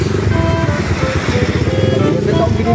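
A Sigma 250 motorcycle engine runs steadily and close by with a throbbing low rumble through the whole stretch, while people talk over it.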